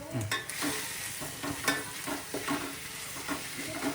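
Crab curry with vegetables being stirred in a pan, a spoon scraping and knocking in a steady rhythm over a soft sizzle, close and clear with no talking.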